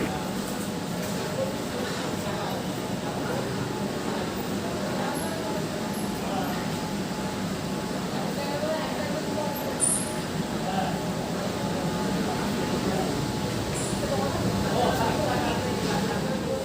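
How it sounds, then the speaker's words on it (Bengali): A Kolkata East-West Metro train pulls into an underground platform at Sealdah station with a continuous low rumble and hiss that fills the space, with faint high squeals now and then. "আর এখনই আমাদের মেট্রো এসে পৌঁছলো"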